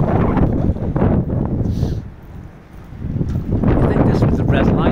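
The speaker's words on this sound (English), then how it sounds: "It's even quite blowy." Wind buffets the microphone outdoors on a street walk through Digbeth, Birmingham. It comes as loud, low, roaring gusts that ease briefly in the middle before surging back.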